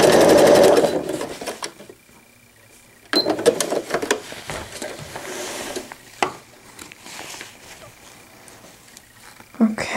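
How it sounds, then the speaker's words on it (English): A sewing machine stitches fold-over elastic onto a pail liner with a backstitch at the edge, running in a loud burst, then in shorter spurts after a pause, close by. "When you get to the edge, see if you can do a backward stitch just to give it a little reinforcement and then over the hump."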